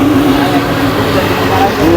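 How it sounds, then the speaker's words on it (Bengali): Cars passing on the Dhaka-Mawa Expressway beside an overbridge during light drizzle, a steady close roar of traffic and tyre noise that holds for the whole stretch. "ওভারব্রিজের পাশ দিয়েই দেখুন ঢাকা মাওয়া এক্সপ্রেসওয়ে গাড়ি চলছে"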